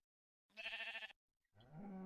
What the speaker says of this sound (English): Oh, and we have a sheep.